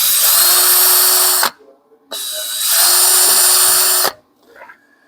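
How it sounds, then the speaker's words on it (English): A drill fitted with a small wire brush scrubs exhaust soot off a metal contact area in two loud, close bursts of whirring and scraping, each about a second and a half, with a short pause between. "We got a little wire brush on the drill."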